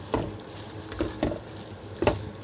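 Spring onion sizzling in a frying pan while making palabok, a steady close frying hiss broken by a few soft stirring scrapes, with no voices.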